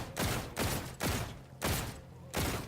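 Gunfire in Call of Duty zombies on the Shaolin Shuffle map, five loud, evenly spaced bursts, each a sharp crack that fades quickly.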